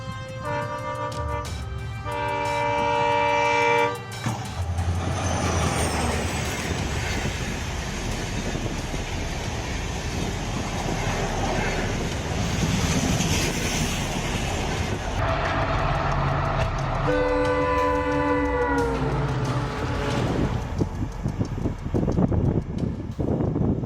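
A train rushes past with a loud, harmonic horn blast at the start and another near the end, a heavy steady rumble and rattle of wheels filling the stretch in between, with no talking.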